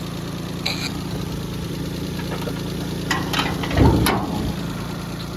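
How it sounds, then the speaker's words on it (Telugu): A used car's engine idles steadily with the bonnet open, a continuous low rumble with a faint rhythmic knock, joined by a brief louder thump near the end. "ఇంజన్ సౌండ్ అయితే ఈ విధంగా ఉంటుంది"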